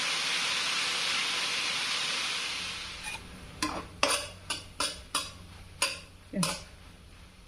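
Onions being stirred in a hot pan for chicken curry: a steady hiss of sizzling fades, then a series of distinct scraping spoon strokes follows in an uneven rhythm, close and clear.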